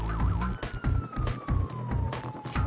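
Police car sirens wail during a chase in Watch Dogs: Bad Blood, a sweeping siren tone over rhythmic thumping game sounds, loud and close.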